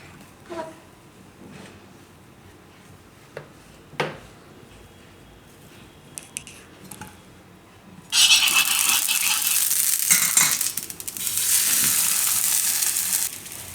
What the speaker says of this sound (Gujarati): તો આને શેકી લેવું.